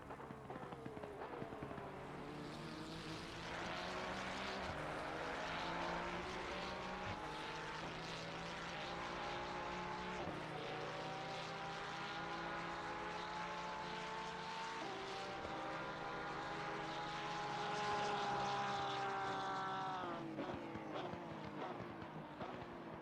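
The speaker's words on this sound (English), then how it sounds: "I'm glad we chose the Ferrari, but goddamn, that Porsche sounds good" Porsche race car from a sim racing game, its engine howling in a rising, shifting tone as it approaches and passes, sustained for over twenty seconds at a fairly quiet level without talk.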